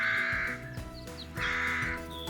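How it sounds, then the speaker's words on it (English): Birds call in a garden planted for a Chelsea Flower Show display, with two loud bursts of harsh crow-like cawing and a few fainter chirps in between. "Hope you're enjoying the bird song in the background."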